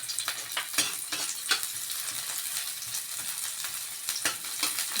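Ginger and garlic fry in a hot pan with a steady close sizzle. Irregular crackles and stirring scrapes rise through it.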